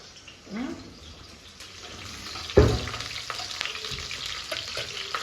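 Small onions sauté in a pan with a soft, steady sizzle, broken by a loud clatter of a ladle or spoon near the middle and lighter stirring scrapes afterwards, with no talk.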